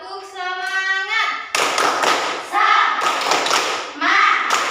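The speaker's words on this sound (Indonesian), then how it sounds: "biar nggak ngantuk kita tepuk semangat dulu" An elementary class performs a rhythmic spirit clap, bursts of patterned hand claps in quick sets under the teacher's and children's voices, loud and close.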